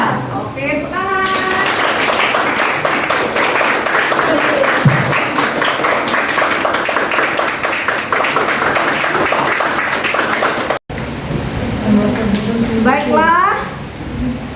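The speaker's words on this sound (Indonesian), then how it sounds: "Oke, tepuk tangan." A junior high classroom claps together for over ten seconds, a steady dense patter of many hands, while a voice speaks over the start and end of the applause.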